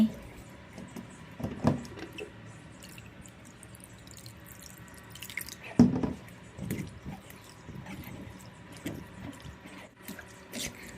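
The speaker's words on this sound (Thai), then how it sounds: "นำมากรองในกระชอนนะคะ แล้วก็ล้างด้วยน้ำเปล่าหรือว่าน้ำเย็นจัดนะ" Water runs and splashes over cooked sago pearls in a strainer, with soft drips and wet squishing bursts against a low, steady background in a kitchen.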